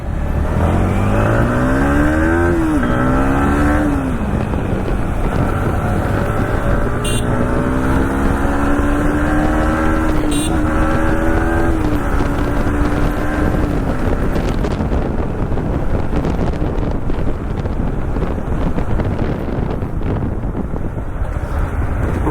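A modified Yamaha MT-15 fitted with Dominar alloys and a Mojo disc rides along, its engine revving up and easing off through rising and falling acceleration under heavy, continuous wind rush, with no talk.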